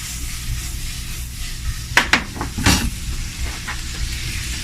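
Sausage sizzles steadily in a pan as it cooks, a close continuous frying hiss broken by a few brief clinks and stirring scrapes in the middle.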